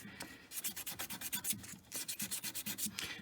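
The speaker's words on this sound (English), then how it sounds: "I am going to sand the entire thing" A hammered metal ring being sanded by hand with 400-grit sandpaper: quick, rhythmic back-and-forth rasping strokes in close, even bursts, with one brief pause partway through.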